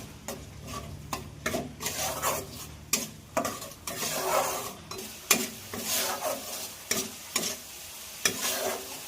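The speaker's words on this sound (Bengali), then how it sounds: "এবার মশলাটাকে ভালো করে আমরা কষিয়ে নিচ্ছি" Spice masala for Bengali-style egg biryani being stir-fried in a pan, a sizzling fry broken by repeated scraping strokes of a spatula against the metal, arriving in uneven bursts close by with no talking.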